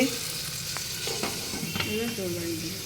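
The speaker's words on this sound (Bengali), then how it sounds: "এখানে বেগুন ভাজা বসিয়েছে।" Eggplant frying in a pan in a home kitchen, a loud close sizzle with intermittent scraping stirs and a few short utensil clicks.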